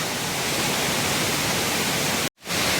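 Heavy water pours down the Mettuguda falls at Seethampeta in a loud, continuous hiss and rush, broken once by a brief dropout near the end before the roar resumes; no one speaks.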